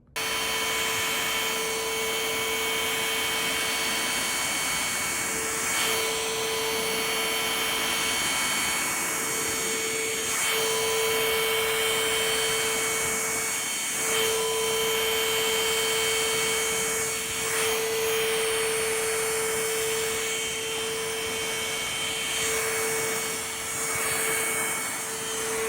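Trucozie T350 cordless vacuum cleaner running with its sofa brush attached, giving a steady, loud motor whine with a constant tone throughout, alone with no talking.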